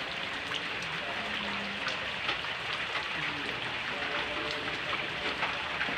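Steady rain falls in an even, dense hiss that stays at a constant, fairly loud level throughout, with no pauses or changes in intensity.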